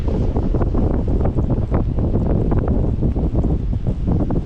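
Strong gusty wind on the coast at Lubec, Maine buffets the microphone with a low, continuous roar and rumble on a stormy day, no voices heard.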